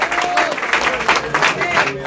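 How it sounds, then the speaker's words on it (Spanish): A church congregation applauds in worship, a steady, fairly loud wash of clapping with crowd voices and a sung or spoken tone mixed in throughout. "Den un aplauso al Señor."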